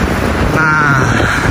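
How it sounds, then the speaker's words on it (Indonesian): Strong swirling wind ahead of a rainstorm in Beijing roars steadily and loudly against the microphone, a dense, continuous rush that buffets the mic, with a faint voice blended in underneath. "Wih, ini anginnya angin muter nih, lihat nih."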